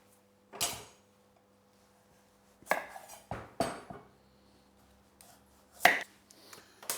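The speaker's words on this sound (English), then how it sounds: "let's get those butternut squash cut up" Butternut squash is cut with a knife, producing a few sharp, separate chops and thunks with quiet gaps between them, close and fairly loud.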